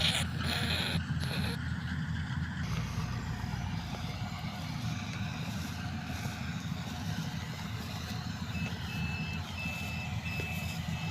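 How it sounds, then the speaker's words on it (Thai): A combine harvester works nearby, its diesel engine giving a constant heavy rumble, with brief high beeps early on and a faint tone later. "รถเกี่ยวก็ทำงานอยู่"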